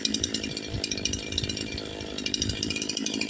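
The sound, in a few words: CS-4910 chainsaw idling after tuning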